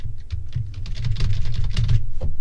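Rapid typing on a computer keyboard, a dense run of close, sharp key clicks that grows louder and busier halfway through, with no voices.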